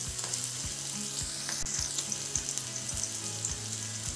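Onions sautéing in hot oil for an instant tiffin sambar: a bright, continuous sizzle heard up close, with soft, regular low thumps beneath it and no voices.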